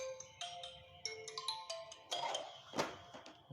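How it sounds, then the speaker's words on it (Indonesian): A telephone ringtone plays an incoming-call melody of bright, electronic tones, faint and alone, rising to a busier phrase near the end. "Oh, ada telepon, bisa di pause"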